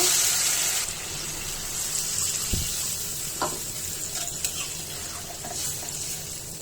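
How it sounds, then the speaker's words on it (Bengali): Pool barb fish and radish curry with water comes to a boil in a pot, giving a steady bubbling, hissing wash with a few soft pops and clicks. No talking is heard. "বলক চলে আসছে, এখন ঢেকে দিব"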